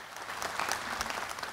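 Warm applause at a Korean volunteer awards ceremony, a dense, even burst of clapping from the audience with no talk over it.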